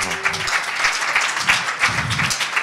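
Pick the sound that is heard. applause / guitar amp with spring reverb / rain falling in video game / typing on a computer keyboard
applause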